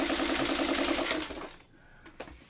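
Quilt blocks being stitched on a sewing machine: a close, continuous, rapid whir of needle strokes that runs for just over a second and then cuts out, leaving a soft rustle.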